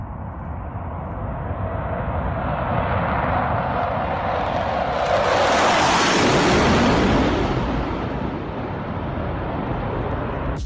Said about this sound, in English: This is the Blue Angels taking off in a diamond formation with F-18s.